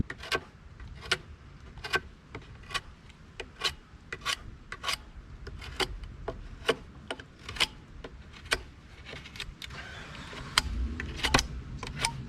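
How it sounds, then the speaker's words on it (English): A knife carves and rasps along the edges of a wooden board for a fake live-edge bench made from reclaimed lumber. The scraping strokes repeat steadily, close and crisp, with no talk. "Now I'm gonna take this knife and I'm just gonna carve up the edges."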